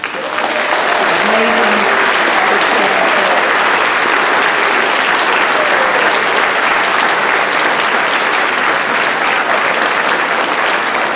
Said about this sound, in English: let's have another big round of applause